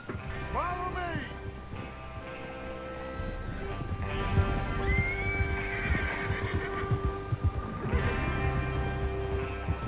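Horses in Red Dead Redemption 2 neigh and whinny near the start, then hooves clop in a steady irregular patter under ambient game sound and background voices, with another whinny later.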